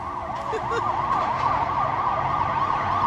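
An emergency siren wails in a steady rising and falling cycle, loud and continuous against street background noise, with no talking.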